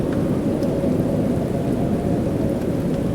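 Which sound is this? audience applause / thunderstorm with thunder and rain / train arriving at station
thunderstorm with thunder and rain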